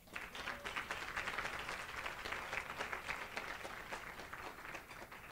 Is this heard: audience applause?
yes